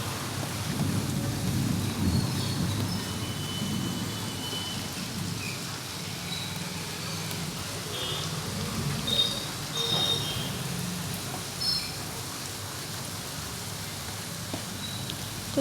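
Heavy rain pours steadily in the afternoon with rolling thunder rumbling underneath, a dense continuous wash of sound throughout with no voices.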